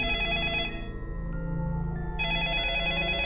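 A telephone rings with a bright electronic bell pattern, two bursts of trilling separated by a brief gap, clear and prominent over a low background bed, with no talking.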